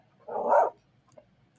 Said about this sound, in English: Hear that? That's what the wolves sound like now.